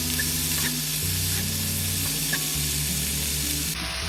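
Leftover fried rice with broccoli is stir-fried in a pan, giving a steady close sizzle with soft scraping stirs throughout, no voices, and a brief higher hiss near the end.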